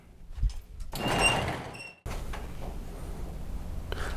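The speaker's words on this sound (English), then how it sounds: "So we'll actually raise the door up, and that way you don't have to bend down to do the bottom." A garage door fitted with DoorSulate Ultra insulation is raised, giving a loud rumbling, scraping rise that lasts about a second, then a sharp stop and a steady mechanical rumble close by with no talk.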